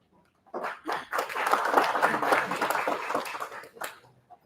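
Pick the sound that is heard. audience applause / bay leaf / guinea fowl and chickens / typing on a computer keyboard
audience applause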